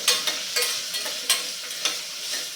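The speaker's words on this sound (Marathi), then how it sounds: "आता यामध्ये आपल्याला हिरवी मिरची आणि आलं घालून घ्यायचं आहे मिक्स करून घ्यायचं" Green chili and ginger stirred in an oiled pan for a no onion, no garlic paneer dish, a bright sizzle punctuated by regular spatula scrapes, close and moderately loud.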